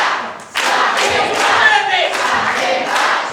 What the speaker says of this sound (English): this crowd make it clear whose side they're on